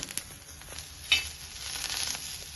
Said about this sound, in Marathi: कांदा हा आपल्याला छान लालसर भाजून घ्यायचा आहे